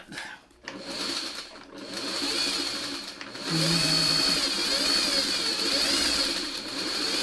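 Sewing machine running a quarter-inch seam while piecing diamond-shaped quilt blocks, a steady whirring hum that grows louder and more continuous partway through, with no talk.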